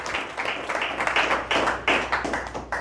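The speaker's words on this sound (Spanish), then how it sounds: "Dele un aplauso al Señor en esta hora, hermanos." Church congregation clapping in rhythmic bursts, a steady pulse of many hands close by with little speech over it.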